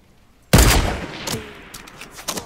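Gunfire in the Fortnite Battle Royale video game: a loud sudden blast followed by a couple of lighter shots, heard without talk.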